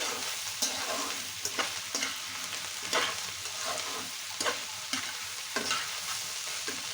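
Onion flowers fry uncovered in a pan, giving a constant close sizzle broken every second or so by sharp scraping stirs of a spatula.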